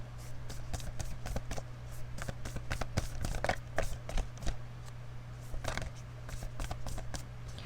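Tarot cards shuffled in a rapid run of crisp riffling snaps and flutters, near and moderately loud over a steady low hum, with brief pauses between bursts.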